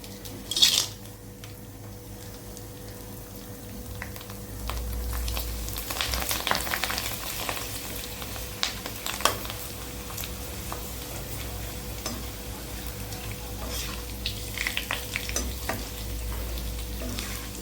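Appalam (papad) frying in a pan, a close, steady sizzle and crackle of hot oil with occasional clinks of a utensil against the pan, and no voices.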